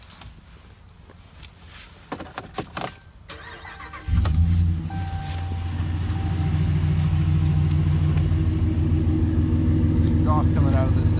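A 2018 RAM 1500 Rocky Ridge pickup with Flowmaster exhaust cranks after a few clicks and fires into a deep, loud, steady idle rumble up close, with a voice talking before the start.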